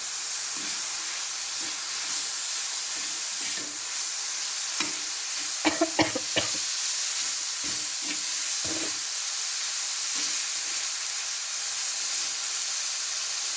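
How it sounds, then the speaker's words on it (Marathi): Washed dried fish (sukat) goes into a pan of roasted spices and is sautéed: a loud, constant sizzle and hiss runs throughout, broken by a few sharp clatters from the stirring spoon, with no one talking. "जी धुवून घेतलेली सुकट होती ती टाकायची आणि व्यवस्थित परतवून घ्यायचं सगळं"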